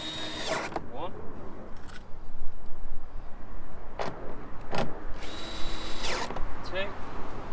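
Screws go back into the interior door panel of a first-generation Mini Cooper R53 during a faulty door handle replacement, heard as several short, close whirring bursts of a driver. The bursts are separated by quieter handling noises, and a voice speaks in between.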